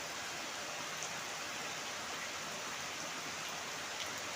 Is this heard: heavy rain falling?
yes